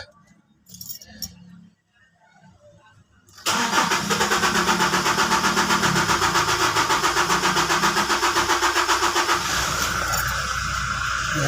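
A 2019 Toyota Hilux diesel engine, just back together after EGR cleaning, cranks and catches after a few quiet seconds of handling noise, then settles into a loud, steady, close-up idle with a fast rhythmic chug that runs to the end.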